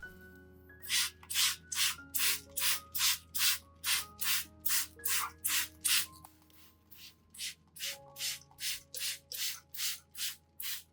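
Repeated short hissing sprays from a pump bottle misting orchid leaves in an even rhythm, about a dozen puffs, a brief pause, then another steady run of sprays; close and clear.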